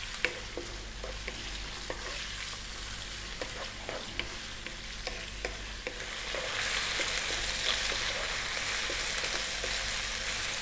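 Thin-sliced boneless chicken breast stir-frying in a wok over high heat for Singapore noodles, a steady loud sizzle with scattered clinks of the spatula against the pan, rising into a fuller hiss partway through.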